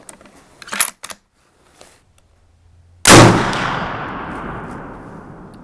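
Single close, very loud gunshot from a .450 Bushmaster rifle at a shooting range, a sharp blast with a long fading echo, preceded by a few faint clicks and handling noises.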